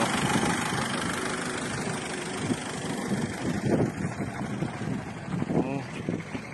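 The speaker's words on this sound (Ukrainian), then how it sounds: "Двигун працює в ідеалі." A steady, low truck engine idle rumbles throughout, smooth and even, with voices talking over it near the microphone.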